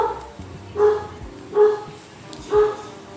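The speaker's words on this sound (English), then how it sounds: "Why do dogs bark so loud?" Dogs bark loudly and close by, three heavy barks spaced evenly about a second apart, with quieter whimpering and low background noise between them.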